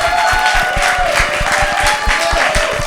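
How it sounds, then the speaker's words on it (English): An audience claps after a bağlama performance, giving dense, steady applause with a lively rhythm that stays loud and near for the whole moment. "Big round of applause for Baris."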